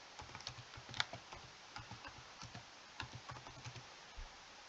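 Typing on a computer keyboard, a rapid quiet run of soft key clicks with small uneven pauses, close and steady, with no voices.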